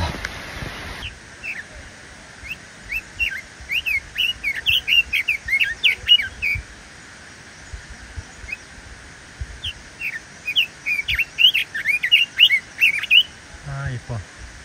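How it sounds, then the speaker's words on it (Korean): Birds chirp and tweet in two bursts of quick, high calls on a mountain trail at Huangshan, with a quiet gap between the bursts and soft rustling underneath. "이렇게 새소리 듣고"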